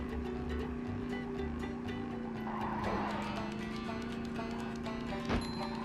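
The Patty Wagon burger car in the SpongeBob SquarePants Movie video game, a steady low motor hum driving along with a brief skid-like swell midway and a small bump near the end, fairly quiet.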